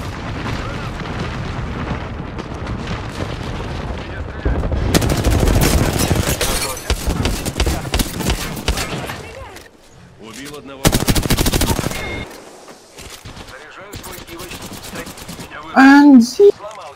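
Gunfire in the battle royale game Apex Legends comes in loud bursts of rapid automatic fire, with booming impacts and short pauses between volleys, and a voice speaks intermittently.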